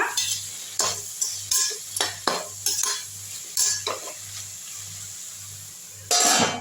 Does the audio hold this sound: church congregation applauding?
no